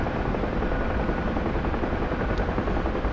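Helicopter rotor noise from the DCS flight simulator game, hovering at the Hoover Dam, is heard as a steady, dense, loud broadband whir with no voices.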